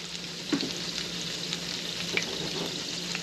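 Rosemary and garlic fry in brown butter for a porterhouse dinner, a steady close sizzle with occasional stirring clicks and pops, and no talking.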